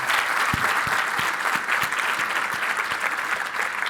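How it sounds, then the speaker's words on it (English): A conference audience at a tech event's closing address bursts into sustained applause, a loud, dense roar of clapping with a few sharper individual claps near the front, and no talking over it. "if we could give a round of applause to Tony and any other community members that contribute code"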